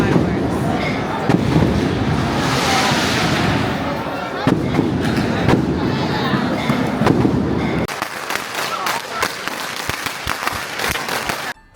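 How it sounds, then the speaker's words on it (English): Fireworks set off from a building roof in Fujian, China, producing a dense, continuous crackle of bursts and pops that later thins into sharper separate bangs, loud and near. "like people on the roof are setting fireworks."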